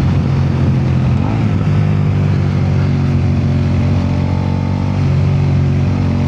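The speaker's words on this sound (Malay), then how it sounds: "kasih korang belanja sikit bunyi V-twin" A Suzuki SV650 V-twin motorcycle engine idling and revving steadily, close and loud, with a deep continuous rumble throughout and no clear rises or gaps.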